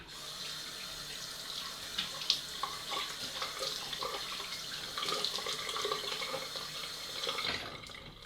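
A bathroom tap runs steadily in a sink as someone rinses off after a straight razor shave, a close, continuous hissing splash with small shifts as hands move through the stream, then cuts off at the end.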